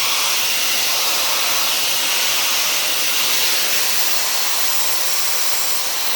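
A Dyson hair dryer fitted with a diffuser runs steadily and loudly throughout, a broad, even airflow hiss with a whining motor tone and no talking.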